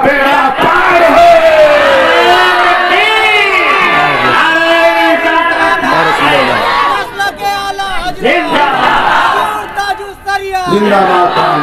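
A large crowd at a religious gathering chants slogans together, loud continuous massed voices in rising and falling unison with a lead voice calling over them.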